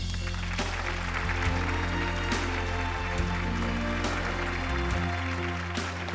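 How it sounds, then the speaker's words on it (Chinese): A studio audience at a televised relationship talk show claps for an arriving guest. The applause is a broad, rain-like patter that lasts the whole time, mixed with steady background music. "让我们掌声有请朱光进。"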